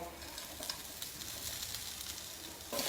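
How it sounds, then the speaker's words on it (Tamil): Freshly grated coconut sizzles and fries in a pan on a home stove, a steady close hiss with faint stirring scrapes and a brief louder burst at the end. "தேங்காய் சேர்த்து 1 நிமிஷம் நல்லா வதக்கி விட்டுருங்க."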